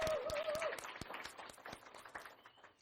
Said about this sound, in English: Let's give everyone a round of applause for returning this year.